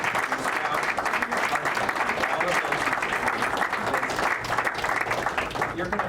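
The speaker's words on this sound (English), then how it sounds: "I want you to give a round of applause to your" Dense, sustained applause from an audience at a law swearing-in ceremony: steady, loud and continuous for several seconds.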